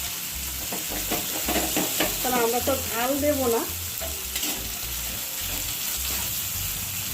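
Dried red chillies fry in a pan with a steady, loud sizzle and crackle, and a spatula stirs now and then. Someone talks briefly over the frying.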